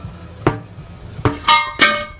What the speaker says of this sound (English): a few smacks and it pops out.